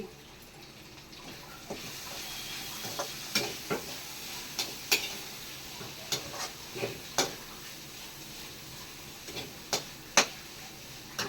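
Okra stir-fry with grated coconut being stirred in a pan, a steady low sizzle carrying repeated light clicks and scrapes of the spoon against the pan, near and even, with no voices.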